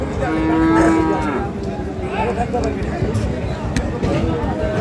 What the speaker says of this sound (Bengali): কার গরু এটা